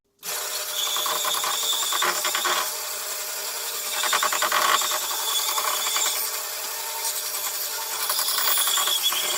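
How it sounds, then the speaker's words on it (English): A bandsaw cuts around a wooden bowl blank in a woodturning workshop, giving a steady, close, continuous whir and rasp with gradual swells in intensity as the blade works through the wood. "that will allow us then to cut around this easily with a bandsaw"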